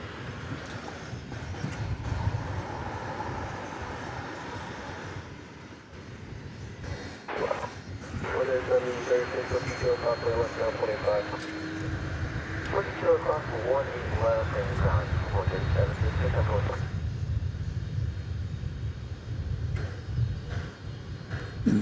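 A UPS MD-11 cargo jet takes off at Dallas Fort Worth airport, its low engine roar swelling and rumbling at a distance, while someone talks over much of it.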